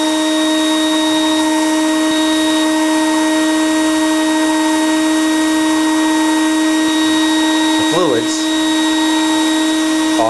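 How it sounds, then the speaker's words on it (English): Homemade record cleaning machine vacuuming a vinyl record through a VPI wand, a loud steady motor whine with constant tonal hum, briefly disturbed near the end while a person talks over it. "So then you hit the button, and it's now vacuuming."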